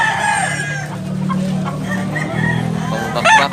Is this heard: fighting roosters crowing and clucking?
yes